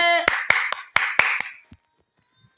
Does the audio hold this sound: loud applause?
yes